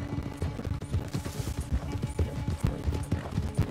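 A horse gallops in Red Dead Redemption 2, its hoofbeats a fast, rhythmic clip-clop that stays close and steady the whole time.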